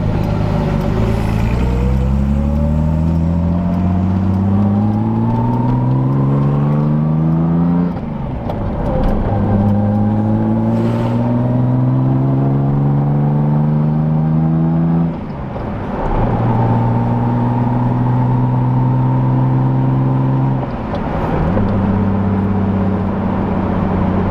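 A Datsun Z car engine pulls hard through several gears, each rising whine of revs dropping at a shift before climbing again, loud and close from inside the car.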